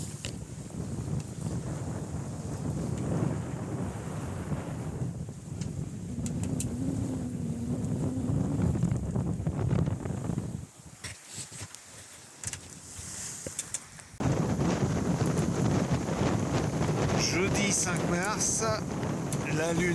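Strong wind at sea aboard a sailboat under full genoa and reefed mainsail: steady roaring gusts and buffeting on the microphone, a brief lull midway, then loud rushing wind and water noise again.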